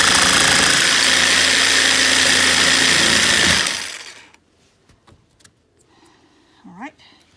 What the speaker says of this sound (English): And then I just use my jigsaw, but that's gonna be a jumpy business